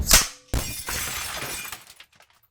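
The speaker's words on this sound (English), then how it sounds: "a deafening crack sounded through the floor, and then glass shattered" Glass shatters loudly up close, a sharp burst of breaking followed by a second crash and scattering shards that tinkle and fade into silence.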